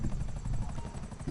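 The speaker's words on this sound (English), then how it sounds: "No, that is a fan." A steady, low whirring drone with a faint rhythmic flutter, like an electric fan running close by, continuous and fairly loud.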